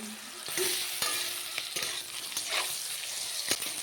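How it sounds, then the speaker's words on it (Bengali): Shrimp and beans frying in hot oil in a pan, a steady close sizzle running throughout with a few sharper crackles and stirring clinks, no talking. "দেখুন খুব ভালোভাবে ভাজা হয়ে গেছে"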